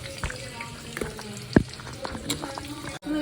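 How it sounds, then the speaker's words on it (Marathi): Masala spices frying in hot oil, a soft continuous sizzle with scattered pops and crackles, close up and fairly quiet. "आपण हा मसाला फ्राय करून घ्यायचा"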